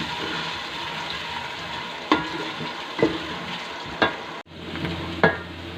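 Chopped onions browning in hot oil in a pan for a mutton kofta curry sizzle steadily, with a spoon scraping and stirring in several distinct strokes spaced about a second apart.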